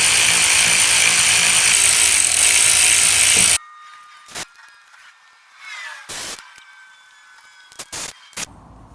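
A wrench spins a bolt loosely along excess thread while refitting the transmission pan on a Mercedes-Benz 722.9 7G-Tronic, giving a few short, close metallic ratcheting bursts after a loud stretch of broad noise, with quiet gaps between.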